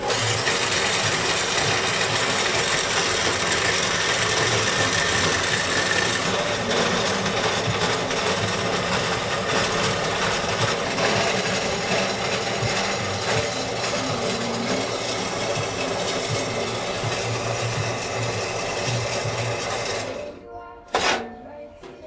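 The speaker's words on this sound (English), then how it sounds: "We're cutting a little bit more so we can shape it to the teardrop that we want." Metal pipe for a turbo manifold is cut with a continuous loud, harsh, buzzing rasp that runs steadily for about twenty seconds, then stops abruptly, leaving a single sharp knock afterward.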